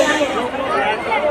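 A crowd at the Charak fair, a dense babble of many voices chattering nearby in a continuous hubbub.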